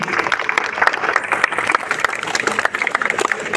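A crowd claps together at an outdoor Republic Day flag-hoisting celebration, dense steady applause filling the whole moment, fairly close and loud, with a faint voice underneath.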